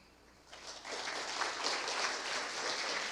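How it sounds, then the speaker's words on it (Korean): Audience applause at a patent court conference opening ceremony in a hall, rising after half a second into a steady, even wash of clapping that holds at moderate loudness to the end. "다시 한번 큰 박수 부탁드리겠습니다"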